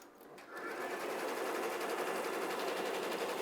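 An embroidery machine head, fitted with a replacement for a bad motor, starts after a brief quiet moment and runs steadily with a dense, rapid stitching rattle, loud and close, with no talk.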